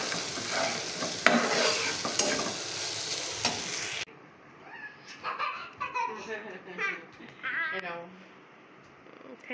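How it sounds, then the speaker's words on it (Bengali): Bitter gourd (karela bhaji) fries and is stirred in a pan, giving a steady sizzle with scraping stirs up close for a few seconds before it stops and a voice takes over. "আর এখানে করলা ভাজি করে নিচ্ছি"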